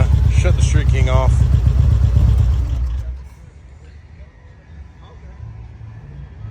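A Street King motorcycle at a bike rally idling with a deep, loud rumble under a voice, then the engine cuts off after about three seconds, leaving quiet background noise.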